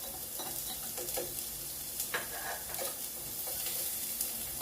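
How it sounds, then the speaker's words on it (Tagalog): Garlic and onion sauté side by side in a frying pan for carbonara, producing a soft, continuous sizzle with light stirring clicks and scrapes, fairly quiet and close, no voices. "lagyan na rin natin yung sibuyas sa kabilang side"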